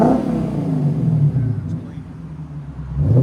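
A 2025 Lexus IS 500 with a 5.0L V8, X-pipe and Magnaflow Magnapack exhaust revs in sport mode, a loud close rumbling swell that eases and then rises again, with people talking nearby.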